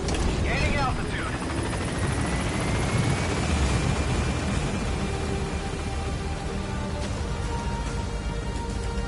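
A helicopter climbs in the video game Metal Gear Solid, its rotor wash a dense, continuous roar that fills the whole stretch, with voices talking over it.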